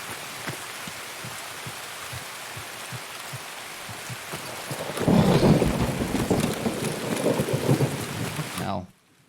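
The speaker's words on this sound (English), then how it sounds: "I don't need to hear that rain non-stop." Steady rain with rumbling thunder in the game Escape From Tarkov, a continuous patter that swells louder midway as heavy rain and thunder roll in, then cuts off abruptly near the end.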